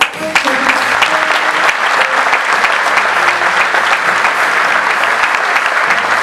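Sustained applause from an audience at a Slovenian Olympic Committee sports awards ceremony, a steady dense wash of clapping lasting several seconds, with faint music or voices beneath.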